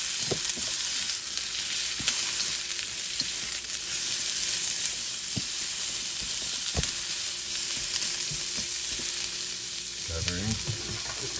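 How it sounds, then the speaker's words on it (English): Onions frying in a pan for Filipino beefsteak, a steady close sizzle running throughout with occasional sharp pops and a stirring scrape near the end. "You just gonna cook your onions a little bit till they get a little translucent."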